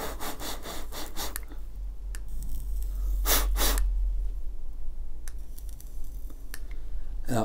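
Short bursts of air rush through a cleaned vape RTA coil, up close, set against a steady low hum.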